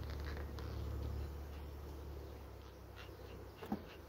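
Honeybees buzz during the unification of hives, a low, steady droning hum filling the background at close range, with a brief louder knock near the end.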